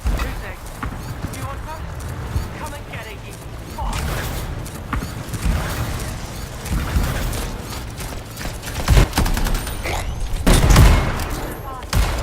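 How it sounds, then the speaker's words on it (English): Distant battle rages in the Anthem game world, with continuous rattling gunfire punctuated by heavier booms that swell toward the end, heard under people talking nearby. "Hear that? Sounds like a war."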